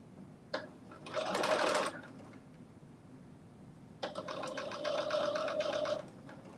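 A home sewing machine stitches fabric in two close bursts, a short run near the start and a longer steady run later, with quiet pauses between.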